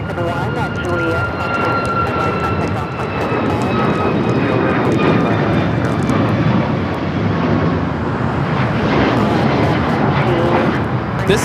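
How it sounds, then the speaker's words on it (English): A Boeing 737 MAX 9 takes off from LAX, its jet engines roaring loud and steady with a high whine running through the rumble across the whole stretch. A voice talks over the engines. "This is Alaska Airlines 1323 taking off to Cancun on the MAX 9 in the Seattle Kraken livery."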